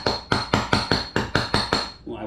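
Seven sharp metallic hammer blows strike a steel punch driving pieces out of a marble holder jig, evenly spaced and close, each ringing briefly before the next, ending with a softer shuffle.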